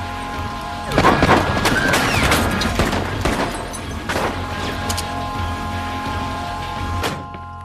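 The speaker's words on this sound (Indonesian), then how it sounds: "Kemudian terjadilah tembak-tembakan antara para mafia itu dengan Buddy." Several sharp gunshots ring out in scattered bursts, loud and close, over a sustained droning musical background, from a shootout in an action film.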